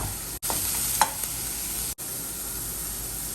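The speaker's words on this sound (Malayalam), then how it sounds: "ഉള്ളി ഒന്ന് വഴണ്ട് വന്നിട്ടുണ്ട്" Onion and garlic sautéing in oil for a lentil and spinach thoran, a steady close sizzle with a few spoon scrapes and stirs against the pan, briefly cut out twice.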